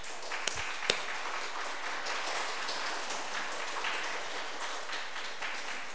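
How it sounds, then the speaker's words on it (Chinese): A church congregation applauds to welcome a visiting pastor, a soft, even patter of many hands heard from a distance, with a couple of sharp knocks near the start. "让我们鼓掌欢迎。"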